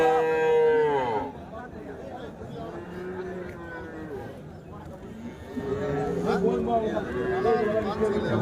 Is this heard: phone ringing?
no